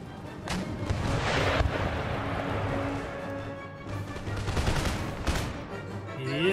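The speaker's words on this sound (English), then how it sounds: "Let's start to try and hit these guys with carcass shot." Artillery firing carcass shot at enemy troops during a fort battle in Empire Total War, heard as a dense run of booming cannon blasts and crackling volleys, with loud bursts near the start and again near the end.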